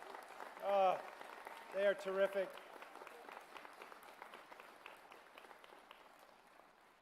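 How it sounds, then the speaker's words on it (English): An audience at the 2022 Juniata College commencement applauds the facilities crew with a steady wash of clapping that runs beneath and between a speaker's amplified voice. "How about another round of applause for our facilities crew"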